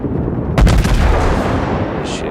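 Warship guns fire in the World of Warships naval combat video game: a single loud, booming blast that rolls off into a long rumbling tail.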